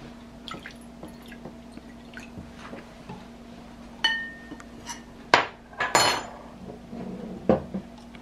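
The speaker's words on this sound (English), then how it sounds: "Now I'm going to put the water in the glass bowl." Water is poured into glass bowls for coloring pasta, with splashy bursts and clinks of glass heard close by against a quiet kitchen hum, interrupted by a few small taps.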